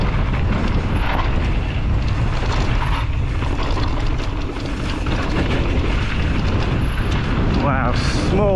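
Strong wind buffeting the microphone on a mountain bike trail at Fort William in a steady, loud roar across the whole clip, with rumbling low-end gusts and no clear speech.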